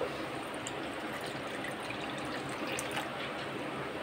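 A glass of water pouring into a kadhai for cooking Maggi noodles, a faint, steady trickling stream lasting a few seconds with no talk.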